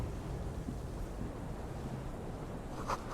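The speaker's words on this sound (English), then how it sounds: "The gust of wind here, the height feels dizzying." Gusting wind on a high ledge in the video game Disco Elysium, a steady airy rush with a brief swell near the end, heard alone with no talking.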